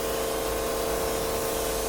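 A portable electric pressure washer sprays through a 40 degree fan tip, making a steady, dense hiss with a constant whine under it, close and unbroken throughout.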